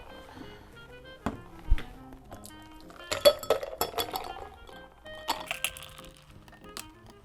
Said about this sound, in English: top it off with just a little bit more ice so you can fill the glass